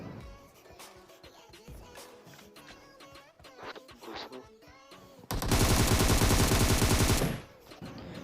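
PUBG Mobile game gunfire in a city area: scattered single shots and short bursts, then a loud, dense sustained burst of automatic fire lasting about two seconds.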